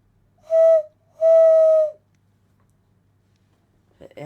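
A person imitates a steam whistle by blowing through cupped hands, giving two loud tonal hoots, a short one then a longer one, followed by silence and a faint bit of noise at the end.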